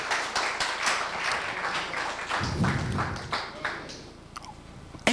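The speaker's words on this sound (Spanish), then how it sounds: "Denle un aplauso al Señor" Church congregation applause during an eschatology conference, a sustained wash of many hands clapping at close to moderate distance that gradually thins and fades toward the end.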